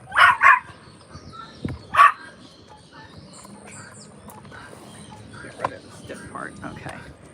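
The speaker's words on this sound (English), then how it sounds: "She's barking because she sees chickens." A dog barks at chickens in a garden, giving a quick pair of loud barks, then another bark a moment later, followed by quieter ambient sounds and faint chirping.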